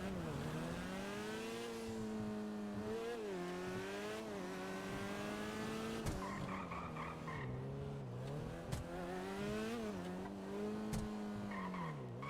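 A car is driven fast in GTA role-play, its engine whining as it revs up and down with brief tire squeals. The sound is faint and sits under distant voices.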